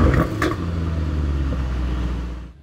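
A pre-facelift Mercedes-AMG E63S fires up with a sharp initial bark, then settles into a deep, loud, steady idle rumble close by before cutting off abruptly.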